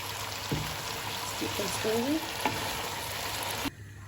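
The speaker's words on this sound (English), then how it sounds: "So put the gas on high and just mix them slowly so they don't break up too much." Potatoes for an aloo curry are stirred slowly and dried in a pan over a high gas flame, giving a steady, close sizzle broken by a few soft scraping stirs.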